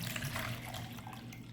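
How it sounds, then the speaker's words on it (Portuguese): Water poured from a tap or container into a bowl for mixing copper sulfate for succulents, a continuous close splashing trickle that runs evenly from start to finish. "Vou pegar uma vasilha aqui, vou colocar um pouco de água"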